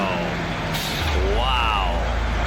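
A Scania truck passes with a sharp hiss of air brakes and a low engine rumble, heard under a voice talking over the scene.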